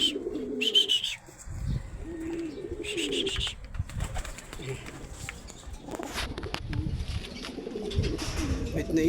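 A caged pigeon or dove coos in short repeated phrases close by, mixed with chirps and shuffling noise while people talk throughout.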